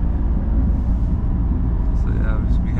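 Turbocharged Infiniti G35 coupe driving on a morning commute, a steady low engine and road rumble heard from inside the cabin with faint higher whooshes near the end.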